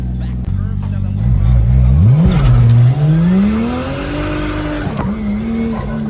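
A Toyota car in second gear pulls hard at full power on a test drive, its engine roaring loud and close as the pitch climbs steadily, with a brief dip and a gear change before settling into a steady high drone.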